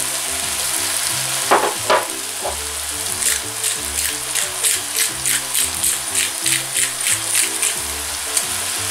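Eggplant and mixed vegetables fry in a pan with a loud, bubbling sizzle and rhythmic crackling bursts, as if being stirred, with no speech.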